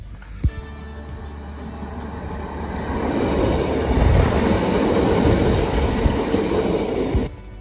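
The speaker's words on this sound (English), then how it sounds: "There's a train coming along." A train rumbles past on the rails, swelling from a distant approach to a loud, continuous roar with faint clatter, then cutting off.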